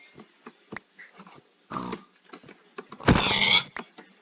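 A pig in Minecraft is struck in the video game, giving short grunting oinks and creaky hit sounds, with one louder squeal near the end, close and clear over near-silence.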